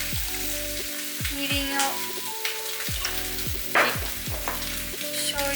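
Dashi poured onto daikon in a hot pan, with steady frying sizzle and stirring clatter throughout, a brief louder splash near the end, and a voice speaking briefly over the cooking.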